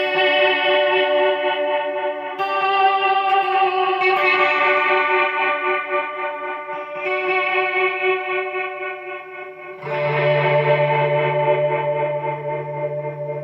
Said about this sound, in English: We've got a tremolo reverb here.